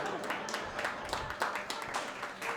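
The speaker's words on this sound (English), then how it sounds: "That's more the right amount of applause for these impressions" A comedy festival audience applauds after a stand-up comic's impression, a modest wash of clapping from many hands that stays steady and fairly soft throughout.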